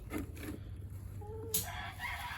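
A hen hollering in a chicken coop, a few close, fairly loud squawking clucks with a short rising call near the end, no talking.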